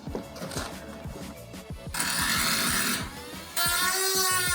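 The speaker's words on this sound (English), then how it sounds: "I just used a 5mm drill bit and just drilled straight through it." A power drill with a 5mm bit whines steadily at close range, its pitch and intensity shifting as it bites through a metal rivet on a van, with louder grinding in the later part.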